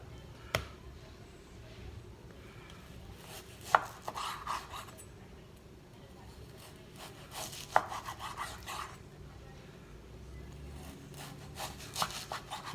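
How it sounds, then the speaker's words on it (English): A knife slices beef into strips for jerky on a cutting board, with soft repeated cutting strokes and occasional sharp knocks of the blade against the board, close and quiet with no talking. "we can go ahead and cut it into strips"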